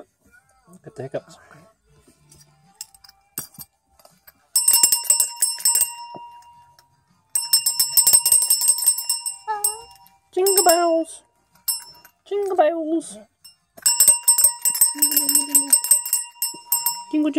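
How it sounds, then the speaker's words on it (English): Bright bells jingle in repeated bursts, close and loud, between stretches of chatter and short sung or spoken phrases. "Jingle bells."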